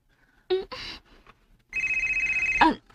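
A telephone rings with a steady, rapid electronic trill lasting about a second, preceded and followed by short bursts of talk nearby.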